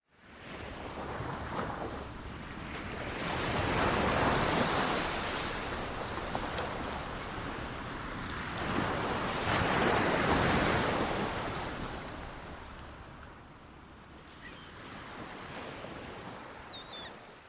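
Sea waves breaking on a shore in slow, rolling surges, rising and falling twice over the span with a wide wash of surf and some wind noise, no voices.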